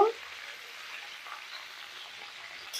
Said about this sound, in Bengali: তেল গরম হয়ে গেছে, ওর মধ্যে কাঁচা আমগুলো দিয়ে দেব।